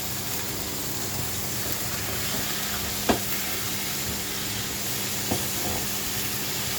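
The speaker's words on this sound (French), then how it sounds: "Une fois que les oignons sont grillés, on met la tomate." Tomato added to fried onions sizzles steadily in a pan, a continuous soft hiss with a couple of brief clicks from stirring.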